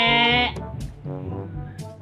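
A human voice imitates a sheep's bleat, drawing out a long wavering baa and then a couple more shorter bleating calls, close and fairly loud.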